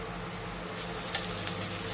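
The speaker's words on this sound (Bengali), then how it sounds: "পেঁয়াজটা কিন্তু অনেকটাই ভাজা ভাজা হয়েছে" Chopped onions with a little salt and turmeric fry in a pan, a steady, close hiss of sizzling oil with faint stirring scrapes.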